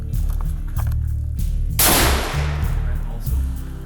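A single hunting rifle shot fires at a range, one loud close crack with a brief ringing decay that rises over a steady low rumble of wind or engine noise.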